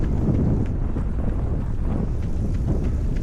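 Strong tailwind rushes past a runner in Battersea Park, a steady, loud, rumbling buffet of wind across the microphone for the whole stretch, with no voices.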